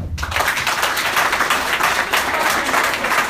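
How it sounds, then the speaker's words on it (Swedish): Men in a comedy club audience clap on request, a short burst of applause that starts abruptly and stays fairly loud and dense, with a few scattered whoops mixed in. "Killar, kan ni applådera nu?"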